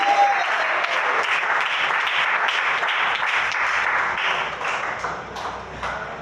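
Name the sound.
church congregation clapping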